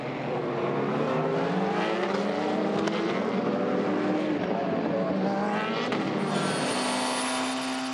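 Toyota and Porsche endurance race cars battle for position, their engines giving a loud, sustained roar with rising and falling pitch as they pass close by, and no voices are heard.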